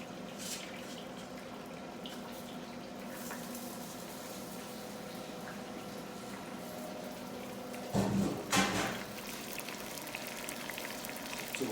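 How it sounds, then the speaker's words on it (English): Butter bubbles and sizzles steadily in a pan over medium heat, a continuous soft crackle with a brief louder burst partway through. "You can hear the butter bubbling."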